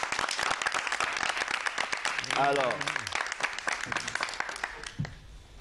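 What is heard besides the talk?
audience applauding a guest on a TV set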